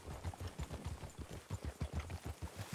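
Horse hooves clip-clop steadily in the RedM game, a regular low thudding rhythm of many quick hoofbeats, fairly close and clear with no talk over them.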